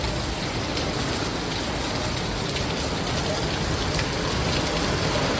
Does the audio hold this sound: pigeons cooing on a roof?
no